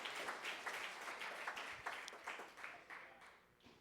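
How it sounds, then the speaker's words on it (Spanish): A church congregation at a Bible study gathering claps together in a fairly faint, uneven burst. Individual hand claps are audible within the applause, which gradually thins out over a few seconds. "si usted va a aplaudir, apláudale con fuerza"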